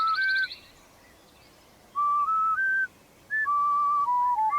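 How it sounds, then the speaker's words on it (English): A Sprunki video game character whistles a tune alone: clear, pure notes stepping up and down in short held phrases, with a brief pause in the middle. "the iconic character that whistles his lovely heart out"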